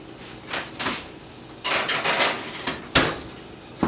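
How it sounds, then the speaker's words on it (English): A tray of garlic knots goes into an oven at 425 degrees, giving a few metallic clanks and scrapes of the pan and oven rack, with a sharp knock near the end. "we're gonna put this in the oven, 425 degrees for 11 minutes"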